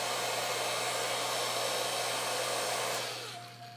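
A hair dryer blows steadily while drying a freshly prepared fingernail, a loud close whooshing hum with a low motor tone that winds down and fades over the last second after being switched off.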